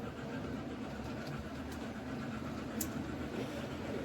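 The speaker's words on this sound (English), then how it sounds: "got trains running. You may be able to hear them in the background." Model trains run on the Leopard Street model railway, a steady low rumble of small motors and wheels on track in the background, faint and continuous with an occasional light click.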